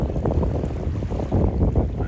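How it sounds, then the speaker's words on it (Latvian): Small fishing boat out on the open sea off Dakar, a steady low rumble of engine and water with gusting wind buffeting the microphone throughout, no voices. "Līdzīgos maršrutos cilvēki brauc ar laiviņu zvejot."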